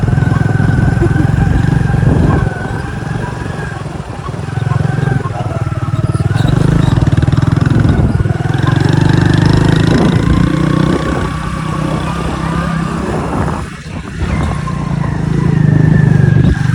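A motorcycle rides through sand on a rural route, its engine droning loud and close with steady revving that rises and dips as the wheels labour, over constant wind-like rumble, with a voice briefly present.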